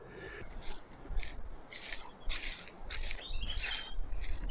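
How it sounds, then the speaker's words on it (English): Birds chirp and tweet in short bursts outdoors in an old graveyard in Killarney on a summer's day, fairly faint over a soft background rumble and occasional rustling steps. "And you can hear the birds singing again."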